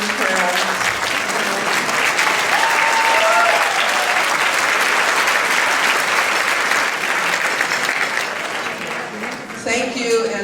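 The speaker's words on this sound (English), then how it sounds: "how about taking a little applause for one of Cloris's dearest and eldest friends" A large audience of celebrity guests gives a loud, sustained round of applause, thick continuous clapping with cheering voices mixed in, tapering slightly near the end.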